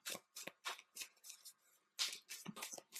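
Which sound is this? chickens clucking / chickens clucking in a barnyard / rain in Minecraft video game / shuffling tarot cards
shuffling tarot cards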